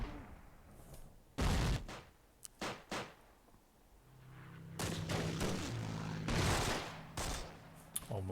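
Mortar fire in the game Myth II Soulblighter: several sharp, loud booming blasts in irregular clusters, some doubled, separated by quieter gaps with a low hum in the background.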